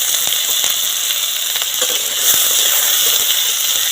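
Oil sizzles steadily in a pan while spinach, soya chunks and potato are being cooked, a loud, close, continuous hiss with faint crackles throughout.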